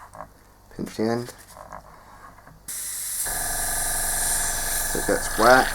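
An airbrush being back-flushed, water bubbling back through the needle as a steady wet hiss and gurgle for several seconds, with someone talking before and over it.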